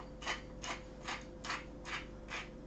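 Pink Himalayan salt is ground by hand in a bowl, producing six evenly spaced gritty crunching strokes, close and soft, with no speech.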